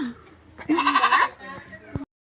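A goat lets out one loud, quavering bleat lasting about half a second, with brief voices just before and after.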